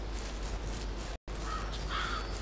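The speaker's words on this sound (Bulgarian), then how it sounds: "Чувам го като звук, че птица, обаче не я виждам." A crow caws in a hunting simulator video game, two or three harsh calls in the latter half over a steady outdoor ambience, with a brief dropout in the sound partway through.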